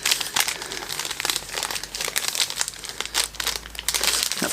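Close, loud crinkling and tearing of a red striped paper envelope being opened, continuous rustling with sharp rips, no one talking.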